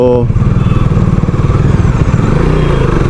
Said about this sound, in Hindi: MT-15 with an exhaust, after market exhaust, double barrel, और क्या अच्छा साउंड कर रहा है